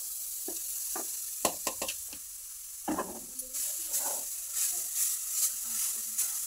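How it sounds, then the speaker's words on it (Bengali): Grated coconut frying in a hot pan, with soft sizzling and a scatter of light knocks and scrapes as it is stirred, close by and fairly quiet, with no talk. "গরম হয়ে গেছে, নারকেল কোড়াগুলো দিয়ে দেবো।"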